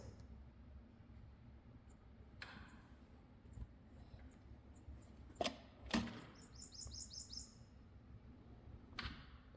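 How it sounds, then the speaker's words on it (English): Prothonotary warbler at Mingo Wildlife Refuge, a rapid series of bright, repeated high notes sung at mid distance over a steady outdoor wetland background with a few sharp clicks nearby. "That's the prothonotary warbler."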